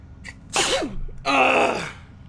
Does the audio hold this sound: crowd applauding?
no